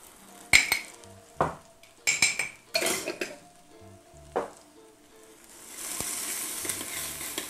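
Shallots and garlic sweating in a hot pan give a steady sizzle, broken by sharp clinks and knocks of a utensil against cookware; the sizzle builds louder toward the end.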